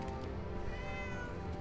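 A cat meows in the virtual-reality game Fallout 4 VR, giving a drawn-out, quiet call over a dense, steady background hum with no talk.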